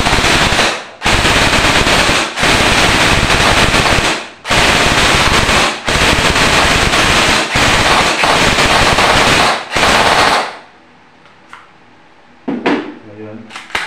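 A JJ SLR V4 airsoft rifle fires on full auto in several long, loud bursts separated by brief pauses, followed by a quieter stretch with a few handling clicks near the end.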